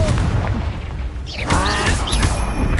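A Confringo explosion spell goes off in a wizard video game, producing loud, dense blasts and crashing booms that layer over each other in quick succession, close and heavy throughout.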